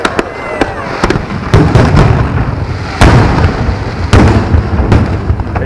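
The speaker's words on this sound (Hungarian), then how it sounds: "pillanatokon belül el fog kezdődni a tűzijáték" Fireworks burst in a display over Tarragona, Spain, sharp loud booms arriving every second or so with crackling tails between them, while onlookers talk nearby.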